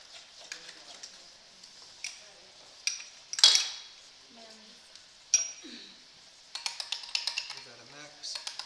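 Mayonnaise and parsley sauce stirred in a bowl for tortilla sauce, giving light clinks and scrapes of a utensil against the bowl, intermittent and close, with a brief voice and a burst of quicker taps near the end.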